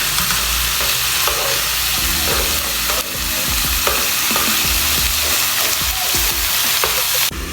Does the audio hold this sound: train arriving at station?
no